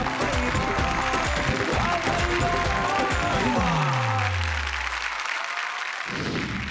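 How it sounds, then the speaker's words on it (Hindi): Audience applause at a Hindi comic poetry gathering (hasya kavi sammelan), spread across the clip and mixed with tonal music and voices, then thinning out and dropping away in the final seconds. "आ जाओ कौशल, जोरदार तालियों के साथ कौशल"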